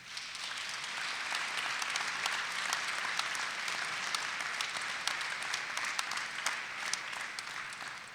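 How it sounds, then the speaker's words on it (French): Audience at a New Year's address in Lançon-Provence applauding strongly, a dense, even roar of many clapping hands sustained for several seconds with no voices over it. "Et j'aimerais qu'on les applaudisse très fort."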